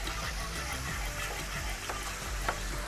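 Milk being stirred into a butter and flour roux for béchamel sauce, a steady wet sizzling and swishing in the pan with faint scraping clicks, close and continuous.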